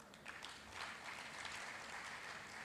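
Applause from a conference audience at a Bank of Industry International Women's Day event: a steady, soft, distant wash of many hands clapping, with no break for its whole length.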